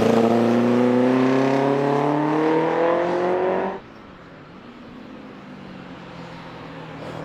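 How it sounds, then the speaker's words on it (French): A vintage race car with a small 1600cc aluminium four-cylinder boxer engine and Twin Spark dual ignition runs with a loud, buzzy, rising drone close by, then cuts off abruptly, leaving quiet background noise. "Le son de ce petit 4 cylindres boxer en aluminium de 1600 cm3 double allumage Twin Spark est vraiment caractéristique"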